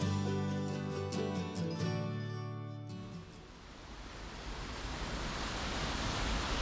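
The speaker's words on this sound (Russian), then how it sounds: "Это водопад Росхов" Roskhov waterfall in Kaliningrad in winter: background music fades out midway, leaving a steady, broad rushing roar of falling water that holds evenly to the end.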